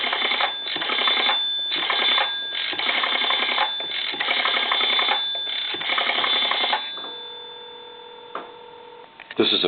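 An old Kellogg telephone line rings after a time-and-temperature number is dialed, with repeated ring bursts through a narrow, hissy handset sound, then a steady tone toward the end.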